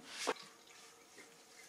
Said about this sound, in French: On remplit le verre doseur d'eau jusqu'au niveau 2 tasses.